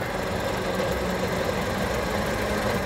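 A Ford Model T engine runs steadily with a low, even rumble and light knocking as the throttle opens and the car moves off, close and continuous with no voices.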